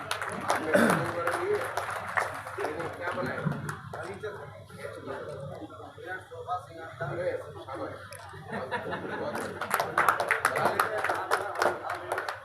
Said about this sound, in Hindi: युवा शक्ति का जोर से तालियां बजाकर स्वागत करें